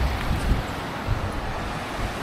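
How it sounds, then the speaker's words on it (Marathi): The Bamnoli river runs in a steady, moderately loud rushing wash, heard close and alone, with light wind noise and no talking. "ही आमची बामणोलची नदी"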